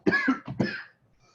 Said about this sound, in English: I'm about to cough again.